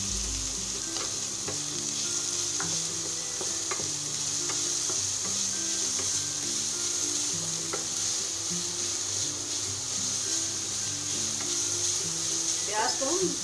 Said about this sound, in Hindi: प्याज को हम दो मिनट लिए भून लेंगे।